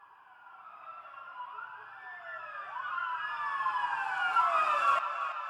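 A police siren sample wails in rising and falling sweeps, growing gradually louder, with a delay effect trailing the tones.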